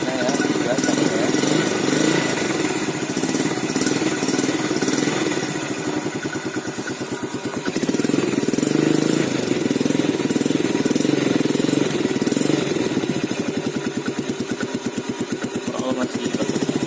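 A Yamaha Vega ZR motorcycle idles steadily with a fine rapid pulsing from its engine and exhaust, loud and close throughout, its tone rising slightly partway through before settling back.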